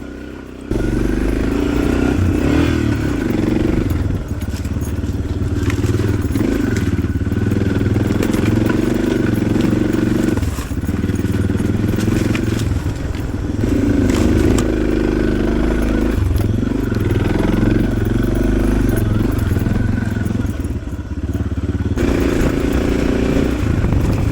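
Suzuki DR650 dual-sport motorcycle riding an alpine quad trail, its single-cylinder engine thumping loud and steady throughout, with throttle surges and rattling over rough ground.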